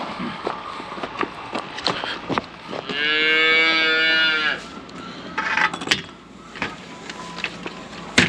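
A cow on a farm lets out one long, drawn-out moo at close range, surrounded by quieter shuffling, clatter and footsteps before and after.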